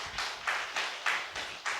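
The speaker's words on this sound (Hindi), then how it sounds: "ताली बजाओ जोर जोर से एक बार" A church congregation claps hard in bursts at a pastor's call during a Christmas sermon, with about six loud, evenly spaced waves of many hands, close and without talk.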